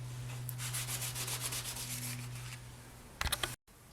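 Fine-grit 8000 sandpaper rubs polymer clay cabochons in quick, close, rhythmic scratchy strokes over a steady low hum, then a brief louder burst before cutting to silence.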